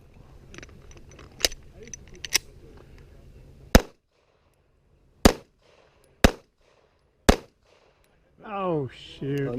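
Pistol gunshots at an IDPA shooting match: four sharp, loud reports spaced roughly a second apart, with smaller pops and handling noise before them and a voice starting near the end.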